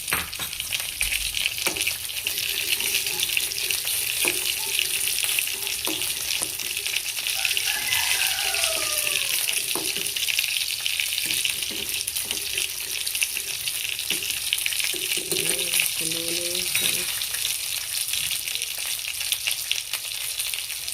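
An egg fries in a pan with a continuous crackling sizzle, steady and close, broken by occasional clinks and scraping of a utensil against the pan.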